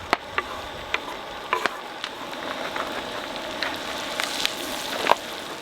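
Garlic and sun-dried tomatoes sizzling in melted butter in a pan at a campground, a soft steady crackle with scattered sharper pops, fairly quiet and heard alone.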